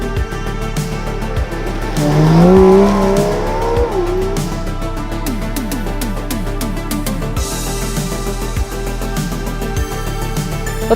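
A car pulls away at an Aston Martin dealership in Uptown Toronto, its engine rising in a loud rev with a tire squeal before settling into a steady drive.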